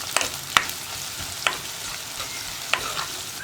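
Sliced onions sautéing in a pan for a spinach and tomato curry with green chillies, a steady soft sizzle broken by a few sharp spoon scrapes and stirs, close and alone without talk.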